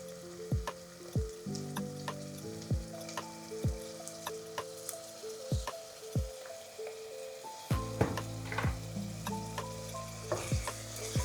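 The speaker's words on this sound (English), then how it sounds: "We're frying the onions and we're going to add some garlic." Onions and garlic frying with a steady sizzle in a pan, broken by repeated sharp clinks and scrapes of a utensil stirring, fairly close, with no talking.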